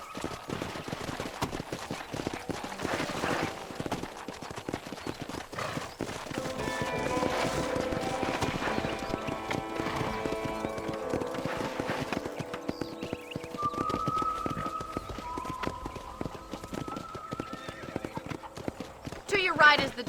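Hooves clip-clop steadily as a horse trots and gallops in the Red Dead Redemption video game, with a whinny and game dialogue voices over the rhythmic beats and background music.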